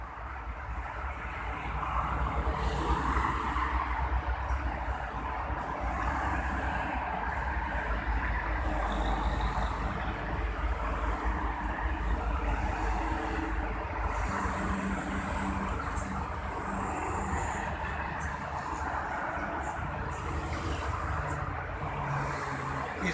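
Heavy holiday-exodus traffic, mostly cargo trucks, on the Jakarta–Cikampek toll road produces a continuous, loud rumbling roar with wind buffeting the microphone throughout.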